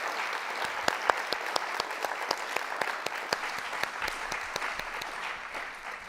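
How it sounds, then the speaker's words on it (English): An audience applauds a panel at a Title IX event in San Antonio: steady, dense clapping from a full room, sustained throughout with sharp individual claps standing out. "Can we give another round of applause here?"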